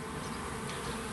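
A swarm of honey bees buzzes in a hive, a dense, steady droning hum that carries on unbroken throughout at a moderate, even level.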